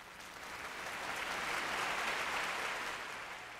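Applause for the Tempête football team, a burst of many hands clapping that swells and fades over a few seconds, dense and continuous, with no voices over it.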